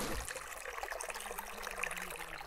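River water flowing steadily, a soft continuous trickling and rushing wash, faint and even with no voices.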